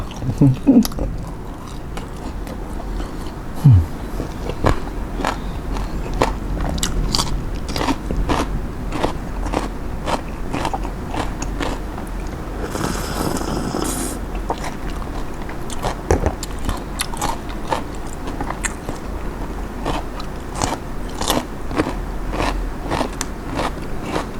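Crunchy bites and chewing of crispy German pork knuckle eaten with noodles, close and repeated irregularly, with occasional talk and a brief rustle midway.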